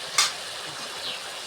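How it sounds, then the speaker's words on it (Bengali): Vegetables, including pointed gourd, potato, okra and jackfruit seeds, are stirred into a spice paste frying in oil in a pan, giving one short bright scrape followed by a soft, steady sizzle. "সুন্দর করে মশলার সাথে তরকারিটা মিক্স করে নিচ্ছি"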